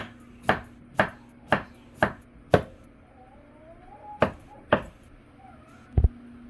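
Knife strikes on a cutting board while green onion is cut, about eight sharp, evenly spaced chops in two bursts with a short pause between, close and distinct.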